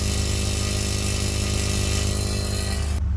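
An Airlift 3P air suspension compressor running in an Infiniti G37, a loud, steady motorized hum and buzz that keeps going without change before cutting off abruptly at the end.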